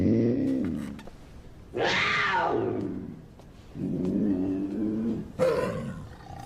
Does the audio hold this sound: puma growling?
yes